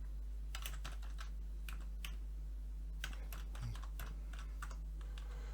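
A computer keyboard clicks in short, irregular bursts of keystrokes as a name is typed into a school sign-in page, faint and close over a low steady hum.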